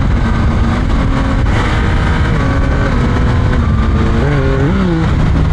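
Motorcycle engine drones steadily under heavy wind rush while riding, with pitch rising through the gears near the end as it accelerates, loud and close to the rider.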